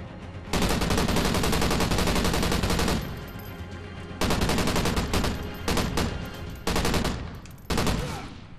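Loud bursts of automatic gunfire in a Call of Duty: Ghosts search-and-destroy match, long sustained volleys broken by short pauses and then several quick separate bursts.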